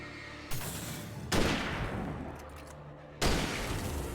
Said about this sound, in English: I want to see what the hunting rifle does.